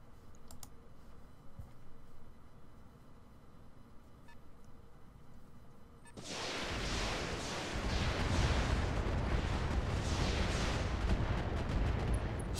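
An enemy mech's weapons firing in the Roguetech video game: a quiet stretch with faint clicks gives way to a sudden, sustained roar of rapid, heavy impacts and blasts that stays loud and dense to the end.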